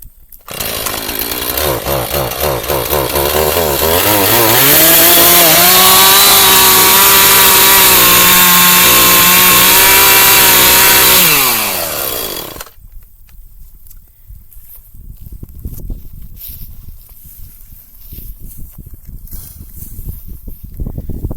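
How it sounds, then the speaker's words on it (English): A loud chainsaw roars steadily close by for about twelve seconds, pitch shifting as it bites into brush along a fence line, then cuts off, leaving quieter rustling and idle noise. "That's always a good idea when you're using a chainsaw."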